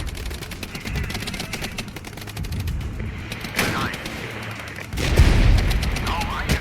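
In the war strategy game Regiments, steady crackling gunfire rattles throughout, and heavier booming artillery impacts hit near the end, loud and dense.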